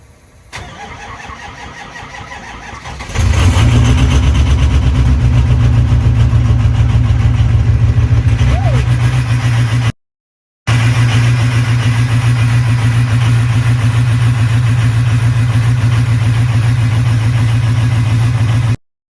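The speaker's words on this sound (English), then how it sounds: "So I'm going to do a little cold start of that truck." A lifted show truck's engine cold-starts in freezing weather after a few seconds of quiet, catching with a loud burst and settling into a steady, deep idle that continues close by, broken once by a brief cut.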